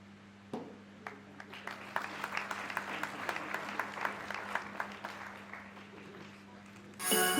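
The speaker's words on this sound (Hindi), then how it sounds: "कृपया तालियों से स्वागत कीजिए" Audience at an award ceremony for community service applauding to welcome an honoree, a sustained wash of clapping that starts abruptly and holds steady, moderately distant in a large hall, with a brief loud burst at the end.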